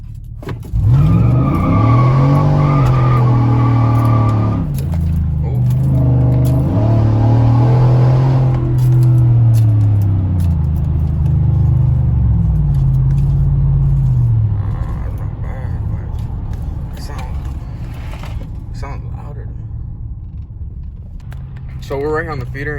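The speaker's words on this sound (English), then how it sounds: "So we're right here on the feeder, and I'm about to do a quick one." A 5.3 single cab pickup with a 6.2 intake and throttle body launches on a road feeder, its engine roaring through several loud rising pulls with tires squealing, then fading as it pulls away, while someone talks.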